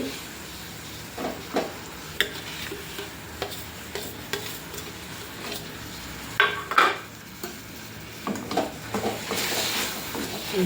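Sweet potato filling stirred with melted jaggery in a pan for bakshalu: intermittent scraping and clinking of a spoon against the pan over a soft sizzle, close and irregular, with no talk.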